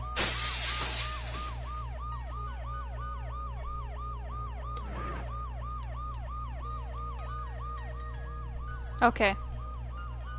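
An ambulance siren in the video game Dead Synchronicity cycles steadily in a rapid repeating wail, with a burst of breaking glass at the start and a couple of sharp clatters near the end, and a voice speaks briefly.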